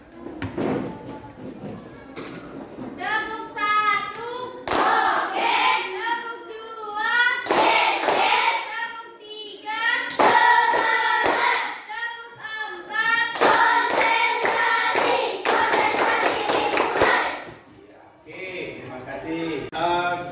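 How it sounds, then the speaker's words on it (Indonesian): Children in a classroom clap together in rhythmic bursts led by a voice, repeated patterned clapping with chanting and speech throughout. "Coba dipimpin tepuknya."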